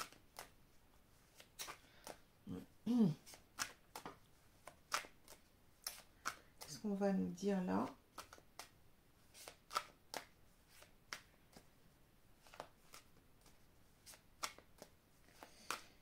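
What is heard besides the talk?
shuffling oracle cards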